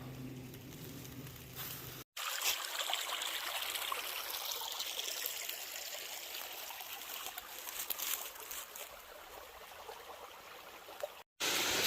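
Creek water flows and trickles around rocks and boulders at a gold prospecting claim, a steady close babbling rush broken briefly by two short dropouts.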